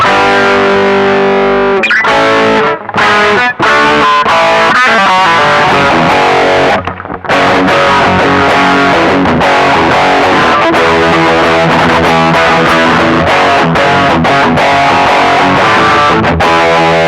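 Electric guitar played through a Ceriatone Horse Breaker overdrive pedal with its hard clipper engaged, loud distorted chords and riffs with a few brief pauses, sustained and alone without speech.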